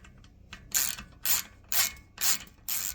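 A socket wrench ratchets in short, regular bursts while loosening the screws holding a brake caliper to a bike frame, five crisp clicking strokes with brief pauses between, close and clear.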